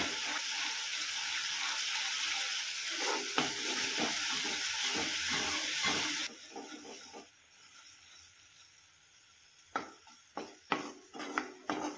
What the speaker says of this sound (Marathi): मसाला आपल्याला छान असा भाजून घ्यायचा आहे लालसर होईपर्यंत